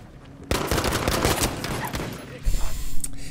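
Gunfire in the video game Battlefield V: a dense, loud fusillade of rapid shots that starts abruptly and rolls on for a few seconds, with a heavier blast near the end.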